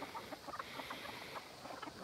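Backyard chickens and roosters clucking in a steady, scattered chatter at moderate distance, several birds overlapping in short repeated calls with no voices.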